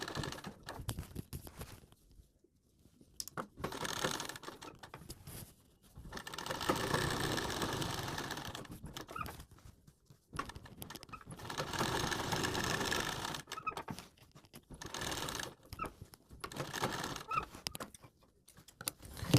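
Sewing machine stitching a coat collar, running in several bursts of rapid rattling that stop and restart with short pauses between them, fairly faint and close.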